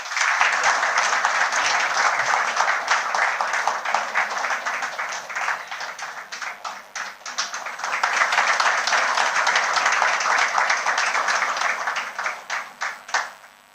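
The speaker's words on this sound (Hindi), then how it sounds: "ताली गाइस।" An audience at a scholars' award ceremony in a hall breaks into sustained clapping, a dense, steady wash of applause lasting over ten seconds, with a brief dip midway before swelling again and thinning at the end.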